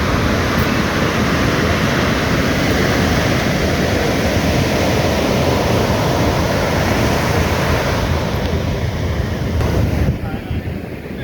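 Bay of Bengal surf at Puri beach as a steady, loud broadband roar of breaking waves mixed with wind buffeting the microphone, continuous throughout and easing slightly near the end.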